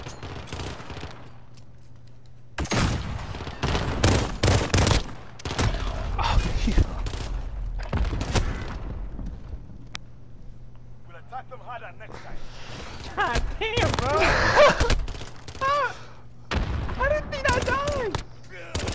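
Gunfire from a shooter video game comes in loud bursts and rapid volleys, separated by quieter gaps, with people talking over it.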